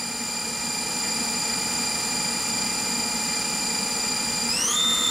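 Spindle of a Bridgeport VMC 800/30 XP2 CNC vertical machining center spinning up, a steady high whine with stacked tones that climb in pitch near the end as speed increases, loud and constant with no talk.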